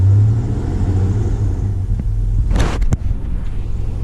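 A Chevy S10 pickup's engine, just fitted with a new fuel pump, idles close by with a deep, steady rumble, then briefly revs with a few sharp mechanical bursts near the end.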